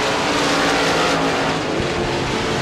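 USA Limited Modified race cars roar around Devils Bowl Speedway in a dense, continuous wall of engine noise. The sound is loud and close, with no letup.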